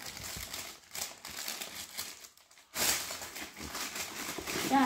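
Crinkly printed tissue paper from an Air Jordan 1 Low Halloween sneaker box, rustled and crumpled close up in bursts, with a brief quiet pause midway before louder handling resumes.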